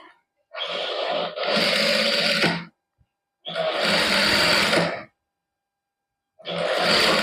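Sewing machine stitching cloth strips onto a suit neckline, running in three steady bursts of motor whir separated by short silences, close and loud with no talking.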